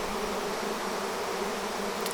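A swarm of bees buzzes around hive frames of synthetic comb, a dense, continuous droning hum at close range without speech.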